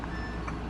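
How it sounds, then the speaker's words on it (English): A dump truck's reversing alarm gives a brief, faint electronic tone over a low engine hum. "Beep, that dump truck was coming."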